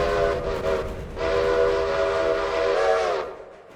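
A steam locomotive whistle in a railroad simulation game sounds in two long, loud, harmonic blasts, the first shorter, the second held for about two seconds before cutting off, with steady engine rumble beneath.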